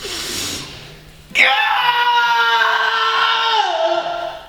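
An actor on a film set lets out a long, loud, sustained scream that begins abruptly after a brief, softer vocal sound and holds steady for several seconds before tapering off.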